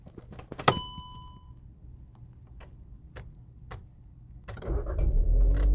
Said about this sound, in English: So you hear that sound of the engine. That tells you that the car is on.